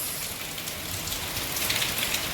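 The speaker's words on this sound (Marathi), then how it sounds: "हे बघा किती पाऊस पडायला लागला बघा" Steady rain patters densely on a surface nearby, a constant hiss of drops without any voices.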